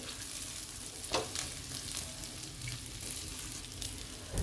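Stuffed brinjals steaming and sautéing in a pan give a quiet, even sizzle, with a couple of soft taps and scrapes as they are turned.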